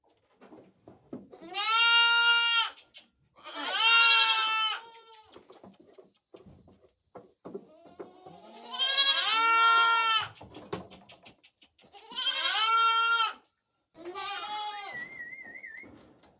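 Dairy goats bleat loudly up close, five long wavering cries spaced a couple of seconds apart, with faint shuffling and softer noises in the pauses.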